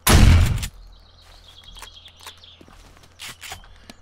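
A single loud, close gunshot in the survival game 7 Days to Die, fired at a zombie, cuts off abruptly and leaves a quiet stretch of faint footsteps, clicks and chirping ambient game sounds.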